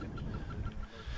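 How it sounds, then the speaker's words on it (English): Chirping crop circle sound played from a phone app in a crop circle field at night: faint, regularly repeating short chirps over a steady noisy background hiss, no talk. "These chirping sounds, they are the crop circle noise, which people hear in crop circle fields."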